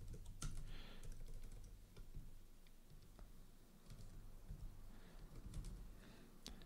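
Close, quiet computer keyboard typing with short bursts of key clicks and brief pauses, the keys tapped while editing a Vim config, with no talking.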